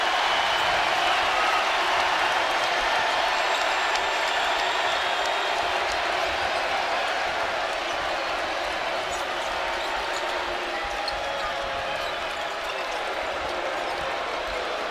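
Crowd applause and murmuring fill an arena during a Purdue versus Arkansas NCAA men's college basketball game, a dense sustained wash of clapping and cheering that slowly eases off.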